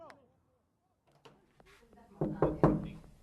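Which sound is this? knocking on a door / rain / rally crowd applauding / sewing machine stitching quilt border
knocking on a door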